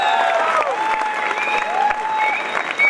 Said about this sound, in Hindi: एक बार जोरदार तालियां हो जाएं हमारे टॉप लीडर